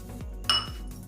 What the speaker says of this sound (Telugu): కొన్ని నీళ్ళు పోసుకొని కలుపుకోవాలి.